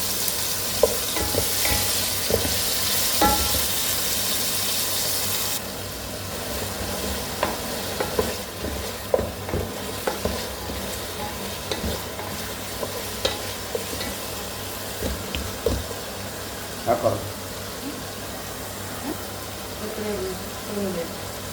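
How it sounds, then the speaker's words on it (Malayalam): Chopped tomato and crushed green chilli are stirred in a frying pan for a spicy chicken and potato pulao, with a steady sizzle and irregular scraping strokes of the spoon, and no talking. "അതിനുശേഷം പച്ചമുളക് ചതച്ചത് ആഡ് ചെയ്ത് നന്നായി ഒന്ന് ഇളക്കുക"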